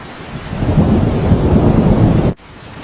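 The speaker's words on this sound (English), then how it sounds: "it is raining quite heavily" Heavy rain with rumbling thunder pours in a steady, dense roar at close range, then cuts off abruptly near the end, no voices present.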